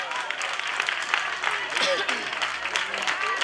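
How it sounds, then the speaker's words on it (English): An audience applauds at a prison inmate graduation at Mile II headquarters in Banjul, a dense spread of clapping that rises and falls unevenly, with voices calling out over it. "Big round of applause."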